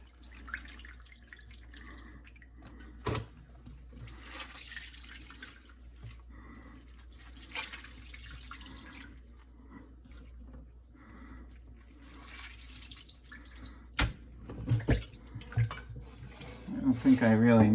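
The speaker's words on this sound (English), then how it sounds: "now we're going to rinse the eggplant and squeeze it out" Eggplant being rinsed under running tap water at a kitchen sink, a continuous splashing stream with drips and a few clunks against the basin, close, with a person talking over part of it.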